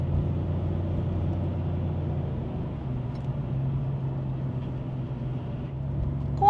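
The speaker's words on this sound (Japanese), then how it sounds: "怖い、車が多い。" Steady low road rumble of heavy multi-lane car traffic passing in front of Nagoya Station, a continuous engine drone with no talk.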